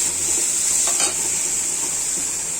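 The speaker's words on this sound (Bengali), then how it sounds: "আমি ডালটা নেড়ে দিচ্ছি ডালটা একটু ভাজা করে নিতে হবে" Lentils (dal) being stirred and fried in a pan on a home stove: a steady, bright sizzle with a brief scrape of stirring near the middle, close and continuous, no voices.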